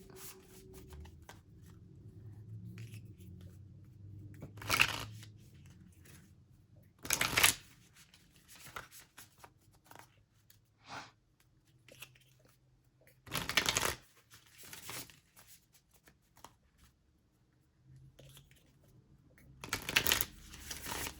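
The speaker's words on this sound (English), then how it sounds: "This is the Affirmators deck for love and relationships." An Affirmators love and relationships card deck is shuffled in several brisk bursts, close and crisp, separated by quieter handling and rustling, with no talk.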